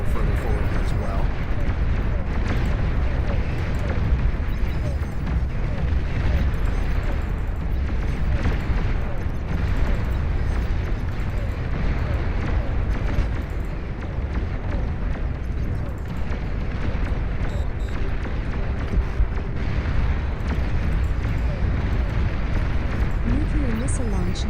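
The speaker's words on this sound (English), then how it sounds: "Nuclear missile launch detected." Nuclear missile launch and explosions in the strategy game Beyond All Reason, a dense continuous rumble of booms and blasts under ongoing talk.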